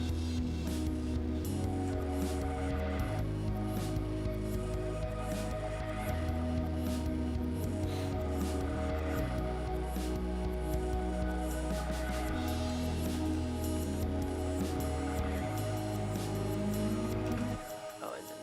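A sustained synthesizer plays low, held notes with a busy layered texture above, continuous and fairly quiet until it cuts off near the end.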